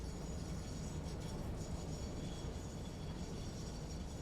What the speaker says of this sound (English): Just gotta wait for my train.